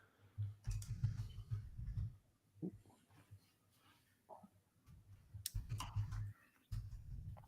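Computer keyboard typing in irregular bursts of soft clicks and taps, with short pauses between runs of keystrokes, close and fairly quiet, with no talking.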